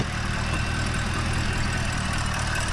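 A Lamborghini V8 with dual intake idles steadily at close range, a loud, continuous low rumble with an even pulsing throb that runs for the whole stretch without any voices.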